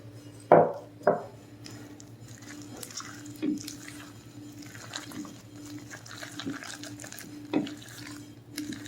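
Strawberries folded into a creamy cheesecake mixture in a bowl, a few soft wet plops and squelches early on, then sparse quiet stirring sounds, close and mostly gentle.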